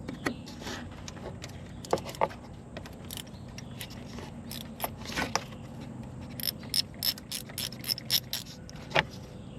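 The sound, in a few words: socket wrench removing two bolts from BMW 328i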